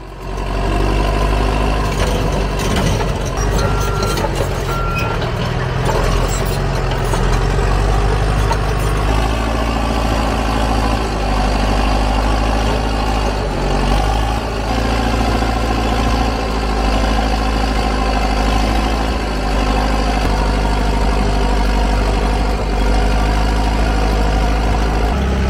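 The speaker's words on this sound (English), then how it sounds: "The engine's thunderous sound tears through the air" The heavy engine of a farm machine runs steadily and loudly at close range, a continuous low rumble with slight rough variation at the start and no pauses.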